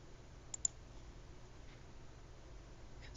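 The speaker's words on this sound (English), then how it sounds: "So you can jump fields by clicking the tab button on your keyboard." A computer keyboard gives two quick, faint clicks close together near the start while a 3D model of a folding phone stand is drawn, followed by quiet hiss.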